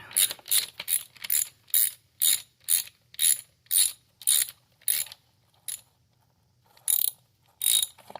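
A ratchet wrench clicks in regular bursts while loosening a coolant plug on a car engine, about a dozen close, crisp ratcheting strokes with short pauses, alone with no talk.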